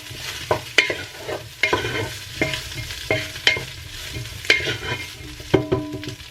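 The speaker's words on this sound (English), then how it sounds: "So I'm just kind of letting it fry up just a little bit" Meat for chile verde frying in a pot, with a steady sizzle broken by repeated clanks and scrapes of a utensil stirring the pieces, close and fairly loud, no talking.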